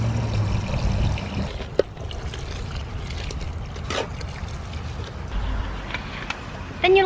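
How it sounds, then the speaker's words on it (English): Hose water pours steadily into a bucket outdoors for a garden compost mix, a continuous rushing splash with a few knocks and a rising gurgle near the end. "Now let's fill it with water."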